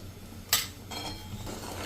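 A spoon scrapes and stirs jaggery with a little sugar in a pan over a low gas flame while making sesame chikki, with a sharp scrape near the start and softer sizzling strokes after it.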